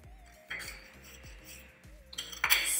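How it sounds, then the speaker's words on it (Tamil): A Lush bath bomb is cut into a small piece with a metal utensil against a hard surface, producing a few light, close clinks and scrapes across a short span, with a faint tonal hum beneath. "ஸோ இப்போ வாங்க கட் பண்ணிடலாம்."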